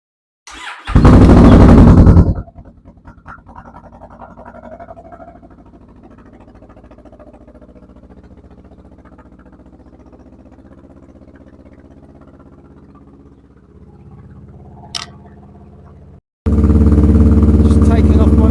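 Kawasaki Vulcan S 650 motorcycle engine, a loud close burst of engine roar at the start, then a quiet stretch of low idling rumble before a second loud roar kicks in at the end.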